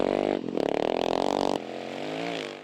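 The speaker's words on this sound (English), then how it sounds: "Ben Grabham on his Honda CRF 450 was eager to get away" A Honda CRF 450 rally motorcycle engine on a desert safari rally stage, revving hard and pulsing rapidly, then settling into a steadier drone as it moves away, close and fairly loud.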